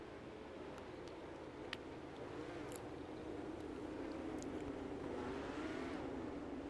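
Wingless sprint race cars running behind a pace truck on an oval track, engines droning steadily at a distance and building gradually louder, with no talk over them.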